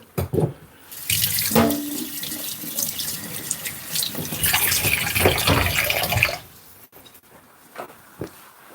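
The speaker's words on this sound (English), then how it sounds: "give my knife a bit of wash" A kitchen tap runs as a knife is washed under it, a loud steady splashing stream for several seconds that cuts off, leaving a few faint drips and handling knocks.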